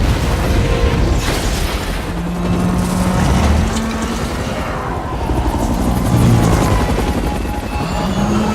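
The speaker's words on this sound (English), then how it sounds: "There's a great scene when John Connor gets on a helicopter" A helicopter in a Terminator film scene roars steadily and loudly, thick with rumbling effects and a dense score throughout, with no voices.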